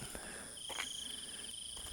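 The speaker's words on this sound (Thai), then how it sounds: "แต่จิ้งหรีดร้องดังสนั่นเลย" Crickets chirp steadily at night in a quiet cemetery, a faint, continuous high trill with a few soft rustles nearby.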